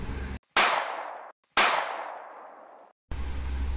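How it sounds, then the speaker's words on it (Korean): Two loud gunshot blasts about a second apart, each a sharp crack followed by a long, slowly fading rumble, with a steady background hiss before and after. "그 순간 메리는 전화기 너머로 몇 발의 총성이 울리는 것을 들었습니다."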